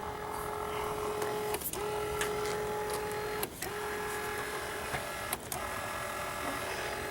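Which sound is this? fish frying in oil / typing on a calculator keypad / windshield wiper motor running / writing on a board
windshield wiper motor running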